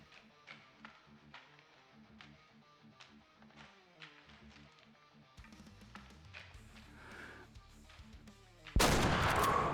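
A hunting rifle shot in the hunting game Way of the Hunter: a long stretch of quiet tapping and ambient sound ends in one sudden, loud, sharp blast near the end.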